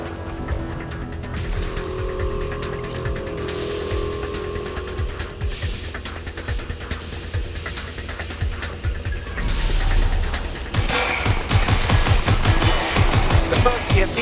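Automatic gunfire bursts and vehicle engine noise from the video game Watch Dogs: Legion, with sustained rapid firing amid car sounds and a denser, louder barrage toward the end.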